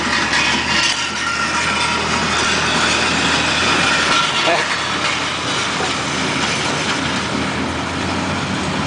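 A small engine on a tractor, choked and cold, catches after a single pull and settles into a steady, loud running roar close by, with a voice talking over it.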